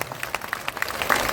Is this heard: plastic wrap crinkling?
no